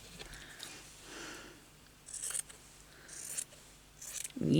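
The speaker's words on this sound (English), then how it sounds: "Might have to cut around the pocket to get it." Scissors cut through fabric around the pocket of a recycled clothing item, giving a few short, quiet snipping bursts with soft rustling between them.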